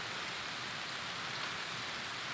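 Steady rain falls across the Factory map in the Escape from Tarkov video game, a continuous even hiss of drops with no pauses and no voices over it.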